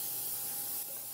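A steady aerosol hiss of Pam cooking spray, continuous for about a second, close to the microphone with no talking.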